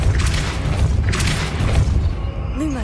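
A Depulso spell goes off in a Harry Potter-style video game as a heavy, booming blast, with two broad bursts in quick succession followed by a short rising magical tone.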